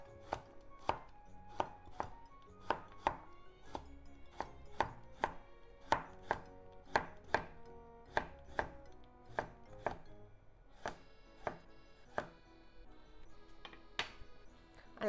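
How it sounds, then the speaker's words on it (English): A kitchen knife slices cucumber into very thin diagonal pieces on a cutting board, a brisk, steady run of about twenty close, crisp chops with no talking. "Make it into very thin diagonal slices."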